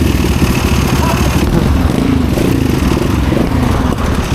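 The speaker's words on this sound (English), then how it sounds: "sounds like a trials bike" A cheap motorcycle engine revving with a rough, buzzy trials-bike note, loud and close, held steady for a few seconds with no voices.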